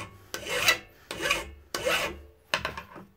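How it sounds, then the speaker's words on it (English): Metal file rasping over the corners of robot chassis parts, four separate strokes, each a bright scraping burst with short pauses between, close and alone with no talk. "all we have to do is just run our file over these corners a little bit"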